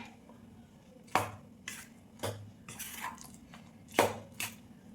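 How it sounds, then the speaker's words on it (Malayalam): A spoon works snack batter with cornflour in a bowl, giving sharp, separate clinks and scrapes of utensil against the bowl, about six strikes at uneven intervals over a quiet background, no speech. "ഇതെല്ലാം കൂടെ ഒന്ന് മിക്സ് ചെയ്യാം."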